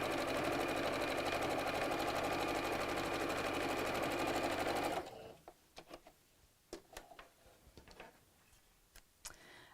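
A sewing machine runs steadily for about five seconds, a loud continuous whir while stitching a felt bunny ear for an Easter door hanger, then stops, leaving faint clicks and handling noises.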